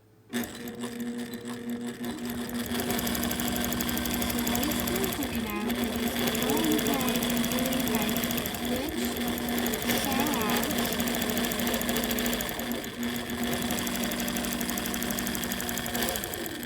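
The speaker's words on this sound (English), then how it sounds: "Then I'm going to go ahead and click sew." A computerized sewing machine runs continuously while quilting under Quilt Path control, its close, steady mechanical hum and rapid needle chatter holding level throughout, with a person talking over it.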